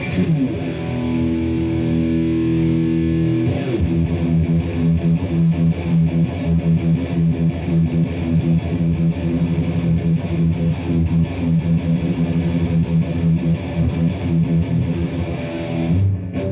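Heavily distorted electric guitar through a Peavey 6505MH 20 watt mini amp head plays sustained high-gain chords and riffs, loud and continuous, with a brief pause early on before playing resumes.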